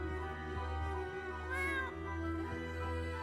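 A cartoonish cat meows once in the video game Escape from Ever After, a short rising-and-falling cry over a steady game music bed.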